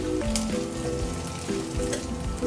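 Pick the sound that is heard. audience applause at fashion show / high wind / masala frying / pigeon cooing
masala frying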